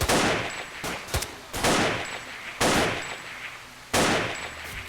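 AK rifle gunfire in the video game Zone of Alienation, with loud, close single shots and short bursts fired at irregular intervals, each shot ringing out briefly in the open air.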